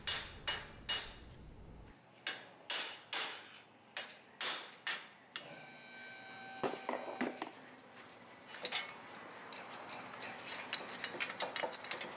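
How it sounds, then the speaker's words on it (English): Sharp metallic hammer blows strike in an uneven series, loud and close, knocking out a wheel bearing on a 2007 Buick, followed by scraping and rattling of metal parts. "really all it requires is a hammer like I'm using here"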